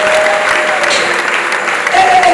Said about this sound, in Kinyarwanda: mwongera amashyi meza y'abakristo